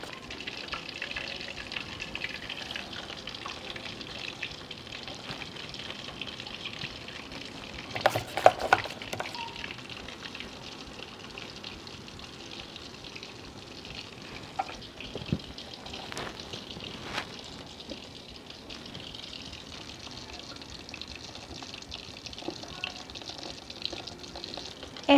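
Lentil batter for dahi bhalla dropped into hot oil, a steady soft sizzle and crackle of frying throughout, close by, with a few brief louder clatters and no talk.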